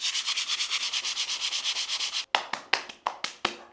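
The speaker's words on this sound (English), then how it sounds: "you've got to sand it and then reapply it" Filler on a wall sanded by hand in a fast, steady back-and-forth scrub, then a handful of separate sharp strokes, close and fairly loud with no talking.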